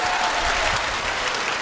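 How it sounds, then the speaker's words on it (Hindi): An audience breaks into loud, dense applause, many hands clapping continuously at an even level with no breaks, filling the space. "तो एक बार जोरदार ताली बजाओ।"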